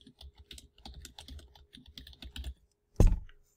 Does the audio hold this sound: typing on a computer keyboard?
yes